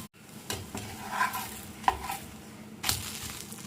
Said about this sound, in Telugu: ఒక పక్క బాగా కాలిన తర్వాత ఇంకో పక్క కూడా కాల్చుకోవాలి ఈ విధంగా బ్రౌన్ కలర్ వస్తేనే బాగుంటుంది దోశ